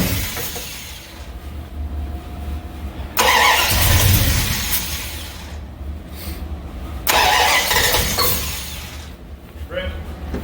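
A Mopar 340 small-block V8 in a Dodge Dart cranks in bursts before catching and running roughly, with untuned timing. The engine sounds loud and close, with voices talking over it.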